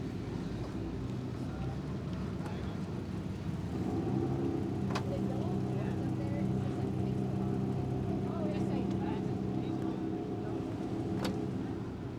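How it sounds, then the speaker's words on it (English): A rally car's engine drones steadily nearby as the broken-down car is flat-towed past, low mechanical rumble throughout with a few faint clicks and knocks. "we've got a car being flat-towed in"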